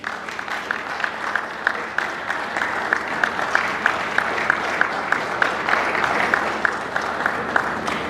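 Sustained audience applause fills a conference opening session, steady and dense with sharper individual claps standing out at a regular rhythm throughout.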